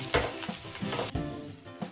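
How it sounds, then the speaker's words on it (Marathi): Cumin seeds, ginger and garlic cloves sizzle in hot oil in a pan for a green peas paratha filling, a close, steady frying hiss with a few sharper crackles and a stir midway. "आधी 1 चम्मच मी जिरं घातलं, नंतर हे आलं घातलं, लसूण घातलं 10-12 पाकळ्या"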